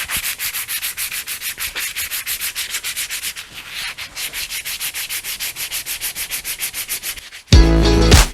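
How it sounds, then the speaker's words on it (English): Steady back-and-forth sanding strokes rasp in an even rhythm, ending with a louder, rougher burst of scraping. "now I can sand, and everywhere that I sand should be flat"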